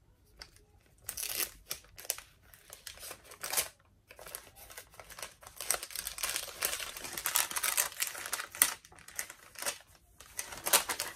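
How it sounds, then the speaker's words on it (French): A paper envelope is torn and opened by hand, with crinkling, ripping and rustling of paper in irregular close bursts over several seconds. "on va ouvrir la première enveloppe, numéro 1"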